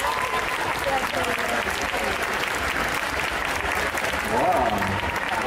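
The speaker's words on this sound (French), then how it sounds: "je vais vous demander un tonnerre d'applaudissements pour accueillir Yuki, s'il vous plaît." A cosplay contest audience at an indoor convention applauds loudly and steadily throughout, a continuous wash of clapping with faint voices and crowd murmur mixed in underneath.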